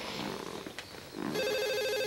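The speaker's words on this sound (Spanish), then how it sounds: "El teléfono." A telephone starts ringing partway through in a domestic scene, a steady electronic ring tone that rises clearly over faint background murmur.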